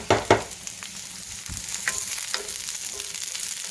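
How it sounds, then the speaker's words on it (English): Garlic skins sizzle and fry in a pan for chili, with a couple of sharp stirring scrapes at the start, then a steady close crackle as they are moved around. "I'm going to add in the skins mainly, because I want them to cook a little longer. And then stir that around."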